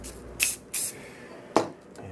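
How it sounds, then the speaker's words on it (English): Gloss white spray paint hisses from a can onto a safari window during restoration, three short bursts with a pause between, close and fairly loud. "I think we'll spray a little bit of that on there"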